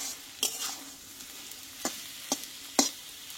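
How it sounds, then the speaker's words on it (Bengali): Fish oil curry with potatoes, just seasoned with garam masala, is stirred in a pan: four sharp scraping strokes of the spoon ring out at uneven intervals over a faint, steady sizzle. "গরম মশলার গুঁড়োটা দেওয়ার পরে কিন্তু কিছুক্ষণ আমি আরো নাড়াচাড়া করে নিয়েছি"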